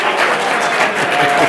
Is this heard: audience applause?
yes